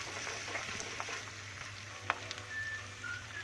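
Onion, green chilli and curry leaves fry in a pan with a quiet, even sizzle and an occasional faint tap of a spoon, heard close up with no talk.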